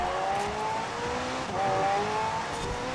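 A McLaren P1 races in Forza Horizon 4, its engine a loud, continuous, strained roar that rises in pitch as the car is pushed hard, with slight dips and surges between shifts and no talking over it.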